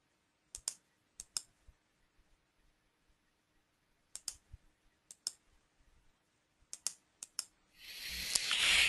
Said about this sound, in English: Click on the inside, right-click.